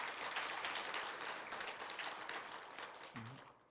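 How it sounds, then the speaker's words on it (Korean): A church congregation at Sunday morning worship claps fully and continuously, then the applause gradually fades, and a voice briefly sounds near the end. "박수 다시 제대로 쳐주세요"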